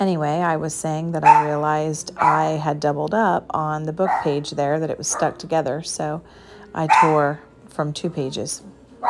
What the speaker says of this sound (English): oh great, my dog is barking at fireworks.